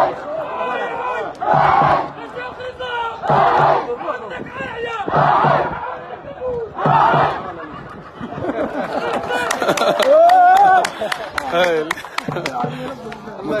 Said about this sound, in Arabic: شوفوا بعض صيحات الجماهير.